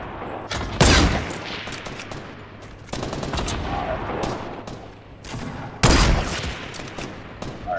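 Sniper gunfire in a video game: heavy, booming rifle shots ring out at intervals, with sustained dense battle noise and rumbling between the loud cracks.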